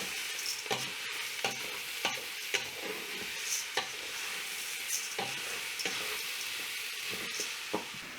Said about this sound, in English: And give all of this a really good stir